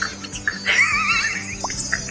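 A person imitates a horse's neigh with a rising, wavering whinny-like vocal call lasting under a second, heard close and fairly loud with faint background noise.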